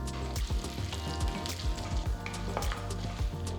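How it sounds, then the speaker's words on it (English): Urad dal, chana dal and mustard seeds frying in hot sesame oil, a steady close sizzle with sharp popping and crackling bursts scattered throughout, alone without voices. "Once the mustard seeds start to splutter,"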